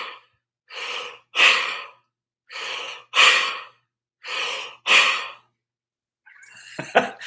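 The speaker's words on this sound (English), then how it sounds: "We're gonna do 10 big belly breaths." Deep belly breathing close to the mic: three slow cycles of breaths, each a soft intake followed by a louder, longer airy exhale, ending in a few rustling sounds.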